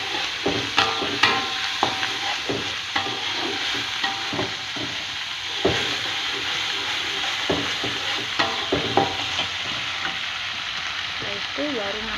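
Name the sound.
sautéing spice paste in a pan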